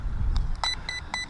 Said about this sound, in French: Bip, bip, bip. Trois cellules.